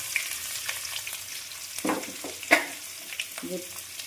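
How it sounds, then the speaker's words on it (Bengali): Dried red chilli tempering sizzles in hot oil as it is stirred, a soft crackling fry with a few spoon scrapes and taps, fairly close and moderately quiet. "এবার ফোড়নটাকে জাস্ট আমি একটু নাড়াচাড়া করছি।"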